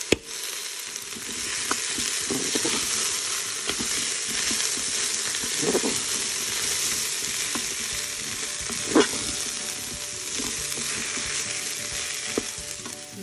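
Rinsed coral lentils and pepper paste fry and get stirred in a Cookeo multicooker, with a dense continuous sizzle and occasional clicks and scrapes of the spoon.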